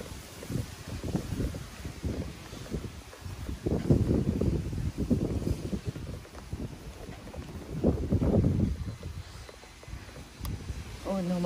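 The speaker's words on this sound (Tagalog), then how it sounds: "Sobrang lakas ng hangin." Strong wind buffets the microphone outdoors during a car wash, loud irregular low-frequency gusts surging and fading throughout, with a brief voice near the end.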